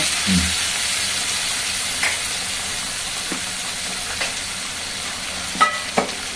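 Hot water added to a sizzling pan of Bengali chorchori vegetables while stirring, a steady frying hiss throughout with a brief splash of water at the start and a few soft scrapes of the spoon.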